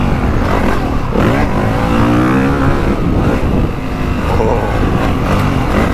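A 2025 Honda CRF450R dirt bike engine drones loud and close during a ride on a dry, choppy motocross track, holding a steady, rough note with small shifts in pitch.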